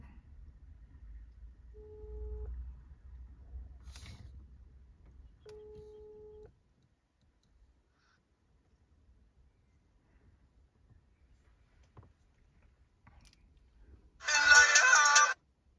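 A phone call placed through a car stereo via a €55 AutoABC CarPlay adapter: two steady ringback tones a few seconds apart over low cabin rumble, then a short, louder bright ringing burst near the end.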